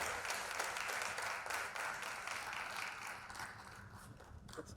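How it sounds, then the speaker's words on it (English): Steady, fairly faint audience applause at an investiture ceremony of the NIA, a continuous wash of many hands clapping that slowly thins toward the end. "A round of applause for him"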